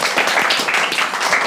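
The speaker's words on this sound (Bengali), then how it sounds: "আমরা ওয়ারিশার জন্য একটি হাততালি দেব" Classroom applause for a fourth-grade student at a geometry lesson, a dense patter of many small hands clapping steadily and fairly loud for over a second, with no voices over it.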